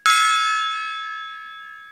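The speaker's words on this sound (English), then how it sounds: "gong for Void" A single struck gong sound effect with a sharp onset and a bright ringing tone that slowly decays over about two seconds, heard alone.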